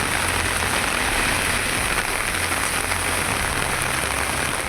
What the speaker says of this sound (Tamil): நெல்லை மாநகரில் வண்ணாரப்பேட்டை டவுன், பாளை உள்ளிட்ட இடங்களில் மழை பெய்தது.